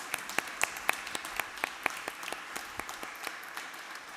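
A small group claps sparsely at a lecture, with individual hand claps standing out at an uneven rhythm; the sound is faint and thin.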